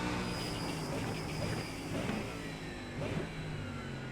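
Mustang race car engine in iRacing, heard as a steady loud drone with slight rises in pitch as it revs, continuous throughout with no talking.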